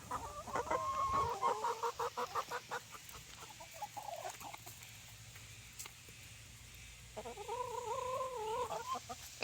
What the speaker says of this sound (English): just get chickens. They follow you everywhere.